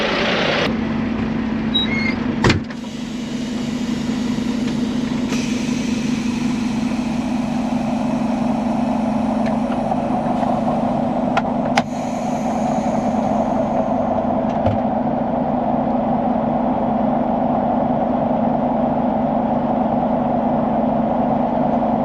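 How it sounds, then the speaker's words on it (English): A truck engine idles with a deep, steady drone while slowly backing onto a weigh scale, with a couple of sharp clunks early on and the low rumble continuing evenly close to the cab. "We'll back up just a little bit and then we'll get our weight."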